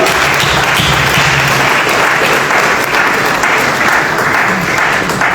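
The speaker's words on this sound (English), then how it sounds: "Let's get a round of applause for Musa." Loud, dense audience applause welcomes a software developer to the stage at a government program event, a thick unbroken clapping sound throughout.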